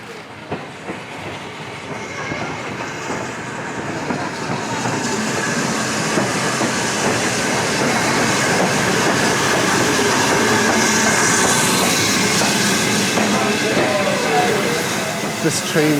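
A steam train rumbling along the rails in Britain, with rhythmic clickety-clack and occasional wheel squeals growing louder and steady over a long stretch.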